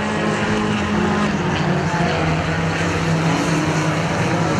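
Mini stock race cars at Perris Auto Speedway roar continuously in a dense, steady engine drone during a main event race, loud and without pauses.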